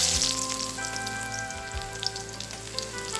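Finely chopped garlic hits hot oil in a pan and sizzles loudly at first, settling into a steady crackle with a few faint pops and a low hum underneath.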